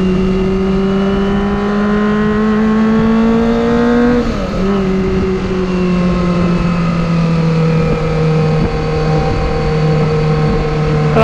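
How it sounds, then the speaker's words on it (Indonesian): Kawasaki ZX25R motorcycle fitted with an exhaust and DB killer, a loud, high-pitched steady rev that briefly dips midway then holds a smooth, tonal whine, heard up close with no talking. "untuk knalpotnya sendiri sih saya pikir cukup nyaman ya, pakai DB Killer kayak gini, suaranya nggak terlalu keras juga"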